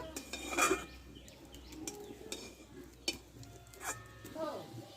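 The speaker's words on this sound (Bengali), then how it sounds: "আমি ততক্ষণ আমি রাঙালুটা আমি গ্রেড করে নেব" Boiled, peeled sweet potato is grated by hand in a kitchen, giving soft intermittent scraping and metallic clinks of utensils at close range, fairly quiet overall.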